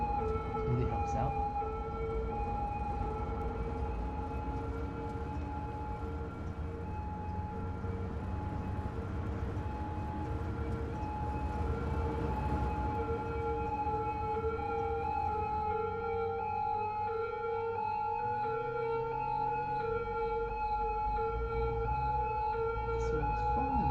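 An ambulance siren in the city-building video game Cities: Skylines wails steadily as a continuous, tonal rising-and-falling howl for the full stretch, with a faint voice talking underneath.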